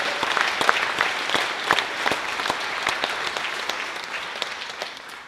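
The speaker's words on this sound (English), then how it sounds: "we better do a really nice loud applause for our elementary music teachers" An audience at a 7th grade school band concert applauds elementary music teachers with steady, sustained clapping that fills the hall evenly for several seconds.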